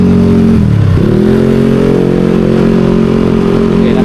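Motorcycles ride through Cebu City at night, a loud, steady engine drone close by that dips briefly and climbs again as the bike shifts and accelerates, with no talking.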